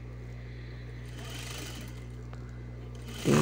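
An overlock sewing machine stitching elastic onto children's underwear runs with a steady, close mechanical hum and rapid whir for several seconds before a brief louder clatter at the end.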